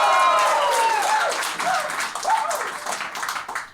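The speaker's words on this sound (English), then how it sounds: "Give yourselves one more round of applause before we get this thing going." A live audience at a fantasy football draft show in Chicago claps and cheers, starting with a whooping burst that fades into scattered, thinning applause.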